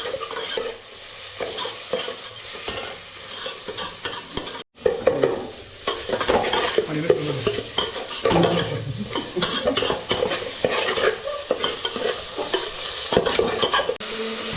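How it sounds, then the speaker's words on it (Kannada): Mutton curry being stirred and mixed with salt in a hot pan, with continuous frying sizzle and repeated scraping strokes of a spoon against the metal, loud and close, broken by a brief gap near the middle. "ಮಿಕ್ಸ್ ಮಾಡ್ಕೊಳ್ಳೋಣ ಚೆನ್ನಾಗಿ"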